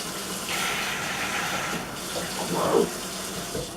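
Water runs steadily from a tap while something is rinsed down, with a continuous close splashing rush and a few brief shifts in the flow, and no voices.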